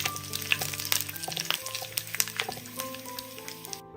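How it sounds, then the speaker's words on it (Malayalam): Sliced onions and halved dried red chillies sizzling in oil over a medium flame, with a steady crackle and intermittent scrape of stirring in the pan, close and continuous. "ചെറിയൊരു ഗോൾഡൻ നിറം ആവുന്നവരെ ഇതൊന്ന് ഇളക്കി കൊടുക്കാം"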